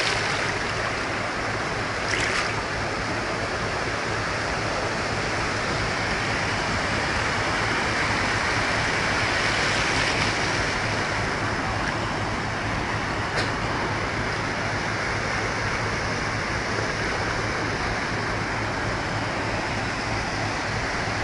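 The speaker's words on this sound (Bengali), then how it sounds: "কোথা থেকে আসছে এই ঢেউ?" Sea waves roar on the beach at Cox's Bazar, Bangladesh, a continuous broad wash of surf that holds steady throughout with no talking.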